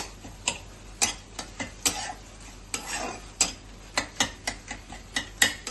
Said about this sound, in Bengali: এইভাবে আমি চামচে করে একটু আলুটাকে এভাবে করে ম্যাশ করে দিচ্ছি